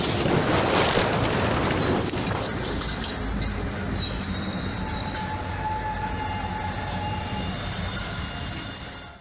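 A train passes on the railway with loud, continuous rolling noise and squealing wheels. A scrape or impact bursts out near the start, then the rumble holds steady before easing off at the end.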